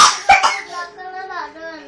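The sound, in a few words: child coughing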